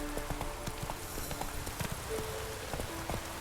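Hooves of Roach, the horse in The Witcher 3, clip-clop in a steady quick gallop, mid-distance over a constant rushing background like rain or wind.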